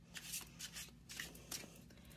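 Tarot cards shuffled and drawn by hand, several soft papery riffles and slides in quick bursts, close and quiet with no voice.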